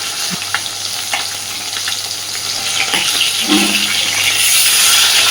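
Rohu fish pieces lightly frying in hot oil, a steady close sizzle that swells louder toward the end, broken by a few soft knocks and scrapes and no voices.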